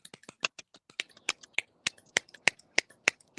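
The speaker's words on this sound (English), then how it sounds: "that's some sad golf clapping there, Tom." Sparse, scattered golf claps from a few people in a live comedy show, individual crisp hand claps spaced irregularly with quiet gaps between them, close and fairly soft.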